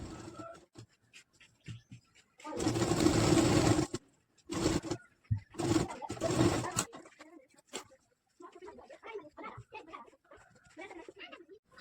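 A sewing machine stitching an Arabic kalidar jubba runs in three short bursts, one long and two brief, with quiet handling sounds in the pauses between them.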